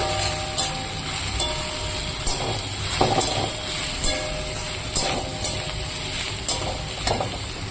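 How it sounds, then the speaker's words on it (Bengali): Chopped leafy greens stir-fry in hot oil in a home kitchen with a loud, continuous sizzle. Rhythmic scraping strokes of the spatula recur about once a second over a steady mechanical hum. "এবার আমি এখানে কেটে রাখা শাকগুলো দিয়ে দেব এবার শাকটাকে আমি ভালো করে নাড়াচাড়া করে"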